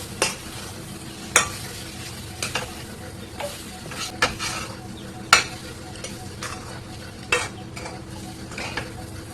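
Spoon stirring semolina (suji) in a hot pan, giving sharp scraping clacks every second or so over a soft continuous sizzle, close and clear.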